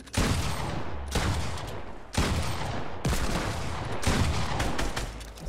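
Rapid bursts of gunfire in Fortnite, including Desert Eagle pistol shots, crackle in dense volleys, several loud salvos separated by short gaps and no voices.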